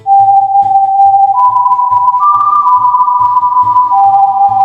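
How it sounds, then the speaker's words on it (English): Death's eerie whistled tune from the Puss in Boots animated film, a clear sustained melody rising in pitch over a soft rhythmic pulsing backing, loud and continuous. "my man Puss is getting World War II flashbacks from hearing that whistle"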